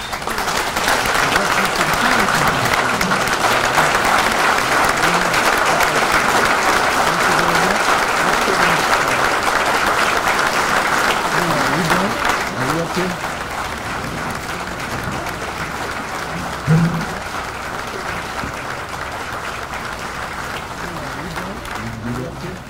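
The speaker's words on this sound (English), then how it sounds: "Let's give them applause." Sustained audience applause at an American Legion convention, a dense roar of many hands clapping that holds steady for about twelve seconds, then continues slightly softer until the end.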